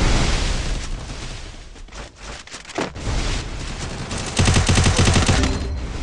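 Rapid bursts of automatic gunfire and blasts from a Free Fire custom-room battle royale match, loud and dense with a brief lull in the middle before heavy firing resumes, no talk over it.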